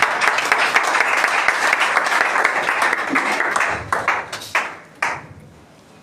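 Worship congregation applauding to acclaim the Lord: sustained dense clapping and cheering that thins out into scattered claps near the end, with no speech over it.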